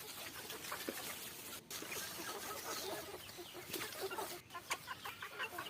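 Young desi chicks cluck and chirp softly in a continuous busy chatter, with scratching and rustling around them, fairly quiet and close.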